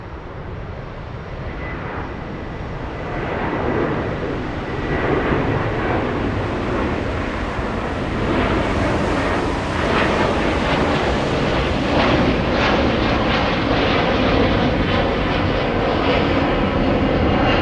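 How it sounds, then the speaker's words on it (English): Jet airliner taking off at Frankfurt airport, a loud, broad engine roar that swells over several seconds and stays powerful and sustained, with some wind buffeting on the microphone. "Oh, takeoff."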